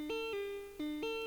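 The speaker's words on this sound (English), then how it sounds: "It's just a regular morphine guitar" A stock guitar-string synth patch from the Morphine plugin plays a few clean, sustained, pitched notes with sharp plucked attacks, quiet and alone.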